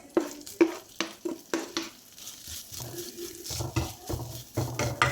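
Mixed nuts and grated coconut being stirred in a pan, a spoon scraping and clinking against the metal in repeated strokes over a soft sizzle, close and moderately loud with no talking.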